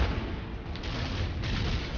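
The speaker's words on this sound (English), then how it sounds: "I need to chuck a grenade in this emergence hole." A grenade explosion in Gears of War comes through as a loud, dull, sustained booming rumble with a couple of sharper thuds inside it.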